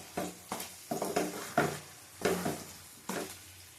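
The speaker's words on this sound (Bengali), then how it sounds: "ভালো করে কষিয়ে নেবো আঁচ কমিয়ে কমিয়ে।" Chicken is sautéed in a pan over lowered heat for a milk chicken dish, with a spatula scraping and stirring in several distinct strokes over a soft sizzle, close by and with no talking.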